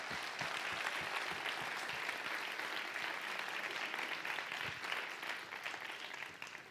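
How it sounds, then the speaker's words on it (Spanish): Congregation applauding at a bilingual Spanish-English church service, a dense, steady clatter of many hands that holds at even strength for several seconds, with a few sharper claps standing out near the start. "Can you give him an applause?"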